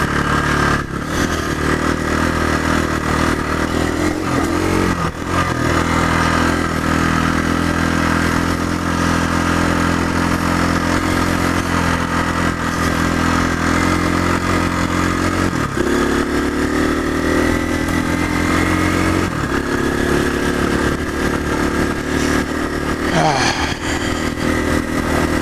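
An adventure motorcycle engine runs steadily and close at a steady mid-pitched drone through the whole stretch, with a few brief shifts in revs and some clatter.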